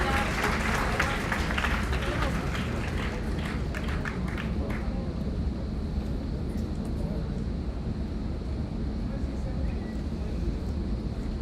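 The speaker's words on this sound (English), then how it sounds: "Can we have a big round of applause for him?" Crowd applause from a university Teach-A-Thon audience at LPU, loud and dense at first with distinct claps, then fading into a lower wash of crowd noise over the remaining seconds.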